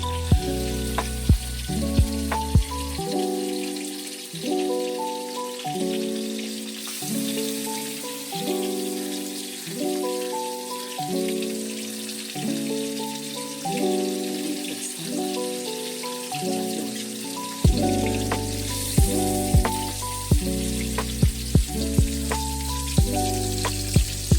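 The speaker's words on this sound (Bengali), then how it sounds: "তারপর গরম তেলে ইলিশ মাছগুলো এক এক করে আস্তে আস্তে ছেড়ে দেবো।" Pieces of hilsa fish slipped one by one into hot oil for a home-style Bengali dish, giving a steady close sizzle with sharp crackling pops over a tonal musical backing.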